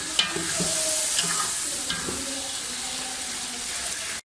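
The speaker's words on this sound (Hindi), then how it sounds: "इसके अंदर हम थोड़ा सा पानी भी डाल दें" Chana pulao masala sizzling loudly in a pan, with stirring and water poured in, a steady frying hiss throughout that cuts off abruptly near the end.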